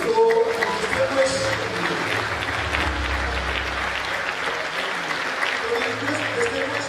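Audience at a public law lecture gives a sustained, moderately loud round of applause, a dense even patter with crowd murmur and voices under it.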